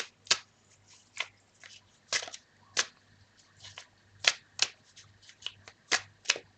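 Tarot cards being shuffled on a table, giving a string of sharp riffling and snapping bursts, about a dozen in irregular rhythm, close and clear over a faint steady hum.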